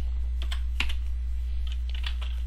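Close, moderately quiet typing on a computer keyboard while entering JavaScript code, with a few quick irregular key clicks over a steady low hum and no talking.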